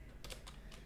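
Typing on a computer keyboard while entering an autocorrect abbreviation in Microsoft Word; a few quick, soft key clicks come close together in a short, quiet burst against a faint background.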